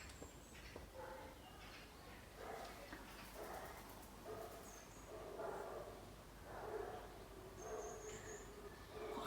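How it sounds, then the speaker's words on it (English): A neighbourhood dog down the street barks repeatedly in short bursts, faint and distant, with no one talking over it. "that dog down the end that doesn't stop bloody barking all day"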